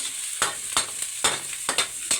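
Aromatics sizzle in a pan while a utensil stirs them, producing a steady frying hiss broken by several sharp scraping strokes in an uneven rhythm, close and moderately loud.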